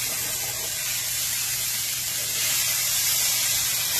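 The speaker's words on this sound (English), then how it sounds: "we're just giving these a light sear" Steaks searing in a hot pan with a light sear, a steady bright hiss and sizzle that holds constant and swells slightly toward the end, close with no talking.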